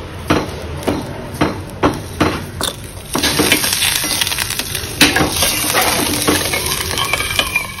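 Boiled potato pieces are mashed with a spoon in a pot of fasting potato curry, giving a run of sharp knocks against the pot followed by steady scraping and stirring, close and fairly loud.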